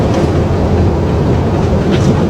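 The engines of an Airbus A330-200F cargo jet roar in reverse thrust just after touchdown in Miami, a loud, dense, continuous rumble heard from the cockpit with no talk.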